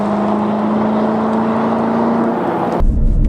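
A 2019 Corvette Grand Sport Convertible in GTA V gives a loud, sustained engine drone with a steady whine that cuts off abruptly near the end into a low rumble.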